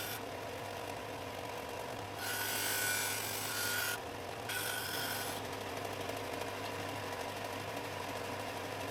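Hand rounding of a purpleheart and maple wooden coffee filter holder gives two bursts of bright rasping strokes, about two and one seconds long, close and moderately loud over a steady low background hum.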